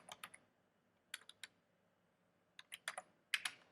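Computer keyboard typing in short bursts of quick, crisp key clicks separated by pauses, close and fairly clear against a quiet background, with no talking.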